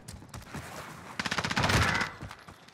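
Rapid video game gunfire, scattered shots at first, then a loud close burst of automatic fire rattling for about a second before fading.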